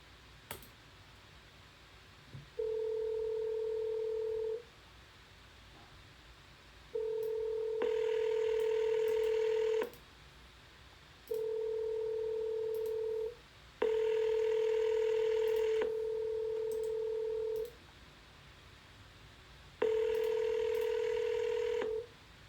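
A telephone ringback tone repeats in steady bursts, about five long tones with pauses between them, clear and close, with a few faint clicks.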